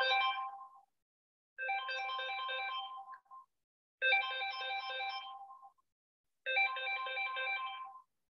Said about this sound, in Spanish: me olvidé de apagar el teléfono